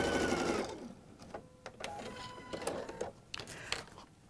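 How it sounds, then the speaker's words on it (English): A sewing machine stitches a seam in fabric, with a brief louder whir at the start, then short, irregular bursts of stitching and clicks at close range with quiet gaps between them. "I'm able to take my pin out and hold the fabric under the needle while I sew"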